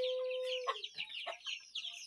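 Chickens cluck and a rooster crows on a farm, several birds calling in overlapping bursts at moderate distance, with a steady tone at the start.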